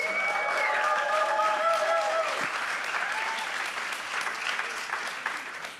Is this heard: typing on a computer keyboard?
no